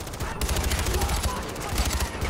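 Rapid automatic gunfire from a Far Cry 4 firefight, a dense continuous burst of shots filling the whole stretch, loud and close.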